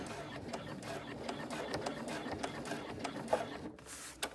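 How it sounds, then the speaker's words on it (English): A hand-cranked sewing machine stitches an appliqué onto a bag, a faint, soft, rhythmic clatter of needle strokes continuing steadily throughout at low volume. "Lower the needle again, continue on, and just hand crank over that first change in the layers"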